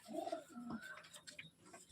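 A Kamaka pigeon coos close by, a soft throaty bubbling call with a few rising and falling notes in one short phrase, heard alone without talk.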